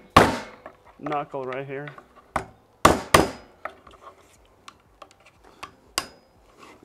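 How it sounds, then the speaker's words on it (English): Sharp cracks from breaking the shell of a cooked Dungeness crab claw, a few hard snaps close by, interspersed with brief speech. "I'm gonna crack the shell so the sauce can go on inside."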